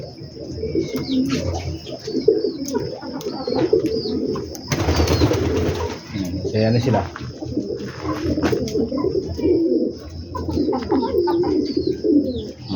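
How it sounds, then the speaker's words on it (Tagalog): Pet pigeons coo in low, repeated, throaty phrases, close by, with a brief burst of wing flapping as they take off; someone talks over the birds in places. "Ayun, magliliparan ng mga ibon natin."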